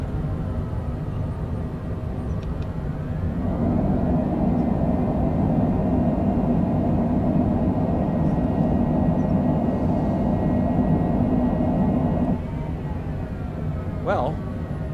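Airliner thrust reversers roaring on landing in a flight simulator game at Mallorca at night: a steady loud engine rumble that swells for about nine seconds, then drops back, with a brief higher whine near the end.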